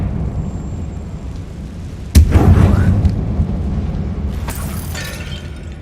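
A Confringo explosion spell in Hogwarts Legacy, set in a tomb-like mine: a single sudden booming blast with a crackling, rumbling tail that fades slowly, over a steady low background drone, then a second softer burst later.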